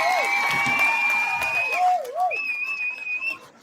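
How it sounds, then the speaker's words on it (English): An audience applauds a guest speaker at an evening talk, the clapping mixed with sharp whistles and gliding whoops that rise and fall over a steady wash of crowd noise. "we got some real applause tonight"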